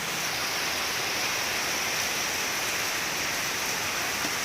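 Steady rain falls outside on a monsoon evening, a dense, even hiss of drops that stays constant throughout with no voices.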